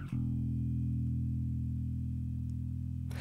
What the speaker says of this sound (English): you can hear that bass guitar.